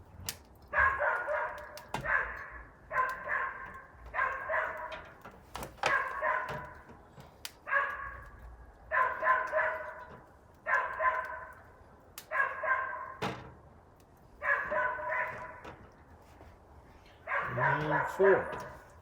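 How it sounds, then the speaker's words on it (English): A neighbor's dog barks in a repeated series of drawn-out, fairly loud barks, roughly a dozen spaced about a second apart, continuing steadily throughout. "Good time for the neighbor's dog to start barking."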